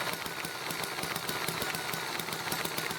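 Small generator running with no load attached, a steady close rhythmic engine chug with fast regular pulses and a dense mechanical rattle throughout, no voices.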